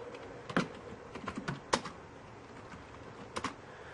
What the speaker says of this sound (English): you can hear me typing while it shows up there